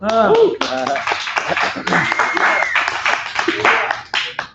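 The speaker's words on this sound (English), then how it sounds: "So now you can clap for me." Audience clapping and laughter at a stand-up comedy show, a burst of applause mixed with cheering voices and crowd noise, fairly loud and close throughout.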